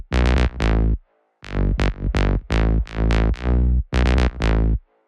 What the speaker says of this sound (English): So this sound is just a simple saw wave, one voice of unison, nothing fancy going on.